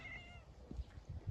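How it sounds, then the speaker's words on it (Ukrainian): A cat meows once, faint and brief, followed by low soft rustling. "Це мій кіт."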